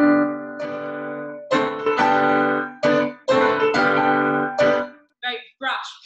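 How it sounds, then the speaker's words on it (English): A voice sings the opening fanfare of Star Wars: a series of bold, sustained notes with short gaps between them, followed by a few brief spoken sounds at the end. "So if we think of the opening of Star Wars,"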